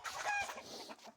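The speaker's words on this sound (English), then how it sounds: "an area where we have some chickens" Chickens in a free-range area among raspberry and blackberry plants give a short burst of close, clear clucking.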